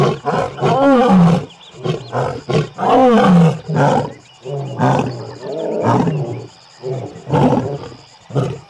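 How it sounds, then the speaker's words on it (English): A wild lion roars repeatedly at close range, deep rhythmic bursts rising and falling in a series of loud grunting calls with short pauses between them. "You cannot get sick of a lion roaring."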